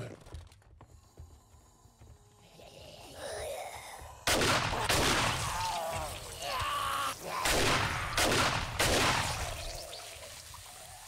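Rapid bursts of gunfire in the video game 7 Days to Die crackle in several loud volleys, with mechanical clicks and rattles between shots.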